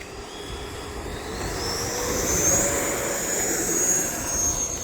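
An E-flite Viper 90mm RC jet takes off, its ducted fan a steady rising whine and rush that swells in the middle and holds fairly loud, heard outdoors without talk.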